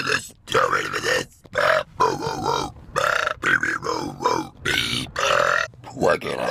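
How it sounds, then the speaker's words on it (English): Repeated throaty, grunting belches come close and loud in a steady series of short bursts separated by brief silences. "Why can't I stop burping?"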